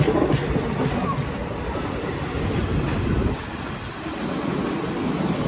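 A train at a large Mumbai railway station gives a steady, loud rumble of rolling wagons with faint clatter throughout, the noise dipping slightly midway before rising again.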